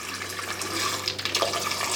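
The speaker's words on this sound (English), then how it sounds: "you kind of hear that noise where it's struggling to go through the filter" Water pushing through a newly installed LG refrigerator water filter, a steady hissing, sputtering rush with splashy bursts as air is forced out, close and continuous throughout.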